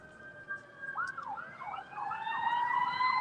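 Ambulance siren wailing on a Los Angeles street, fairly distant at first and steadily growing louder, its rising and falling yelp clear over low traffic noise.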